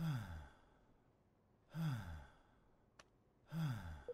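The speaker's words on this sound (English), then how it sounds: "Can you stop breathing in my ear" Three slow, heavy breaths puffing close into the ear from the video game Human Simulator, each a long airy exhale spaced evenly apart, with a small click between them and near silence otherwise.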